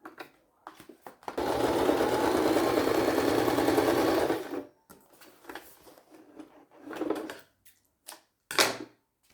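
A sewing machine stitches a 3D toiletry bag in one steady, close burst lasting about three seconds, followed by quieter rustling and handling of the fabric.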